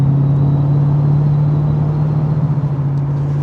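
A 525hp LS3 V8 swapped into a Mazda ND Miata drones steadily from close by, a strong low hum with a faint whir above it, even and unbroken with no talking.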